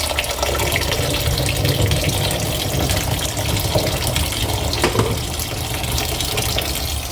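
Cold tap water runs steadily over freshly cooked rainbow-colored somen noodles being rinsed, a continuous close, full gushing stream with no one speaking.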